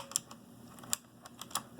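Clicky keystrokes on a mechanical keyboard with blue switches, a handful of sharp, crisp taps at an irregular pace, close and fairly quiet, with no talking.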